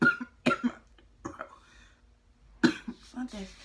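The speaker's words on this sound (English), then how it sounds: "That still got me coughing." A person coughs several times in short, sharp bursts, close to the microphone, with quiet pauses between the coughs and a throat clear, after wax strips are pulled.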